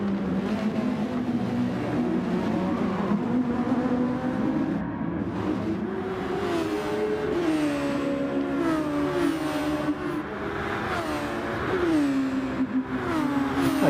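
Race cars in a racing video game with several engines whining together, their pitch climbing and dropping through gear changes. The sound stays at a steady, fairly loud level with no talking.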